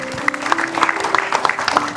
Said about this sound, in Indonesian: Boleh yang di studio kita kasih tepuk tangan dulu nih ya.